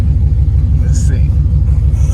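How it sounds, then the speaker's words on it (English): A $275 auction Chevrolet Camaro SS with a low oil light rumbles steadily while driving, its deep engine drone close and continuous with no talk over it. "Guys, we're driving this thing."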